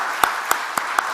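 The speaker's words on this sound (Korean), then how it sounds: "우리 박수로 환영할까요?" A church congregation at a Sunday service claps to welcome new members, four sharp separate claps spaced evenly and close by, not yet swelling into full applause.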